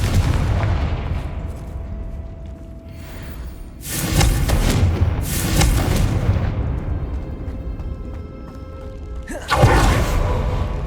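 Several loud broadband blasts from the Confringo fire spell in the video game Hogwarts Legacy burst out, the sharpest near the start and end, over a rumbling game soundtrack.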